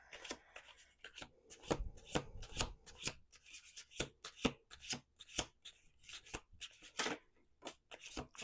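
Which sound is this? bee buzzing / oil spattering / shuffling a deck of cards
shuffling a deck of cards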